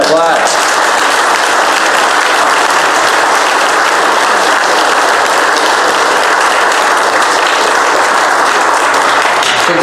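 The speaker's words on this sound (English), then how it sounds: "Let's give Karen a round of applause." Sustained, loud, dense applause from a gathered congregation fills the space evenly for the whole stretch, with no pause, and a few voices are buried in the clapping.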